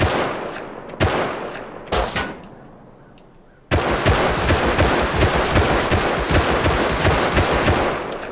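Gunfire in the survival game Rust: two sharp single shots ring out, a short lull follows, then a dense, sustained stretch of rapid shooting hammers on loud and close.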